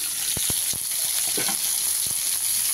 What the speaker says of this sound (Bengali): আমি এই বেগুনগুলো ভেজে নিচ্ছি, চিংড়ি মাছটা ভেজে নিয়েছি।